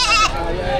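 A goat bleats once, briefly and close, at a livestock market for cattle, goats and carabao in Padre Garcia, Batangas, with crowd noise around it.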